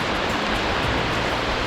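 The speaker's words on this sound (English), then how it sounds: "incredible waterfall." Waterfall on Ben Nevis in Scotland, a steady, dense rush of falling water, close and loud, with no breaks.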